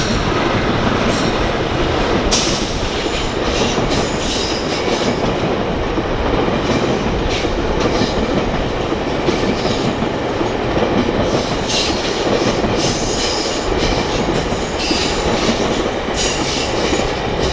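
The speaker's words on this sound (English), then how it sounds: "some of the very last EMDs on Canadian passenger trains" An EMD diesel locomotive hauls a Canadian passenger train past in a loud, continuous rumble of wheels and rail noise, with faint squeals and clatter running through it.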